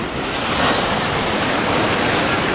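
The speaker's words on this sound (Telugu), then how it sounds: "సముద్రం" Sea surf churns near Dwarka, close to where the Gomti River meets the sea, as a steady broadband rush of waves mixed with gusting wind noise on the microphone, loud and continuous throughout.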